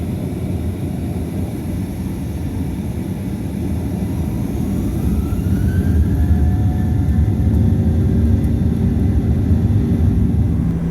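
Boeing 737 jet engines spool up for takeoff in Microsoft Flight Simulator, a loud, steady roar that builds gradually, with a faint rising whine emerging midway.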